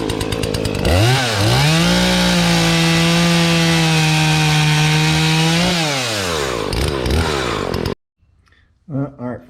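A repaired Husqvarna 240 chainsaw idles, then revs up to a loud, steady high-pitched whine held for several seconds before dropping back and cutting off abruptly, leaving near silence.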